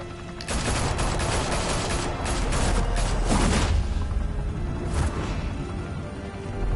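Gunfire in a Gotham-set video game: a dense, continuous barrage of loud shots and blasts that stays intense throughout and eases slightly near the end.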